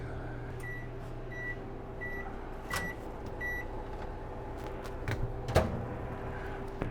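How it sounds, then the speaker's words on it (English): A steady low hum of a microwave oven running, with occasional faint clicks and beeps over the drone. "I'm gonna put it in the microwave for about 1 minute and 30 seconds or so."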